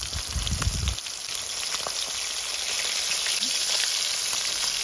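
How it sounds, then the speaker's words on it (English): Climbing perch fish frying in mustard oil in a pan, a steady close sizzle and crackle with fine popping, louder bubbling bursts near the start, then continuous spitting hiss. "we have to fry this till it turns golden brown"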